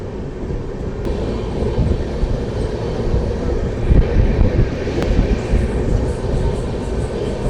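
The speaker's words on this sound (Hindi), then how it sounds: "अच्छी गति के साथ आगे बढ़ती हुई हमारी ट्रेन" Passenger train 22479 runs on rails between New Delhi and Lohian Khas Junction, a loud, continuous near rumble of wheels with rattling carriages and brief rail clanks.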